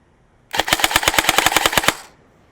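A G&G SSG-1 airsoft AEG firing one rapid, close burst of about fourteen evenly spaced sharp cracks over roughly one and a half seconds, then falling silent.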